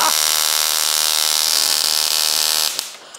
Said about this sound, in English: So, two power sources leading to absolutely legendary sparks 5 inches long.